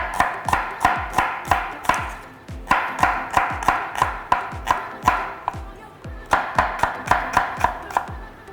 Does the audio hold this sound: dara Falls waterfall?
no